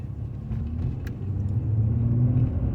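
A truck engine runs at a steady idle, a continuous low rumble that swells slightly toward the end, with no voices over it.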